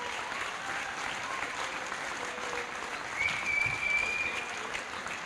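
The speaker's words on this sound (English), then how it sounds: "if we could give him a big round of applause" Applause from the crowd at an alumni basketball tournament in a gym, a moderate steady clatter of clapping that swells briefly toward the end.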